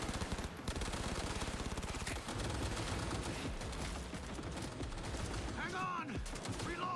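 Rapid automatic gunfire from a Cyberpunk 2077 firefight, loud and close, with dense bursts and steady rattling shots running almost throughout, while a voice speaks briefly near the end.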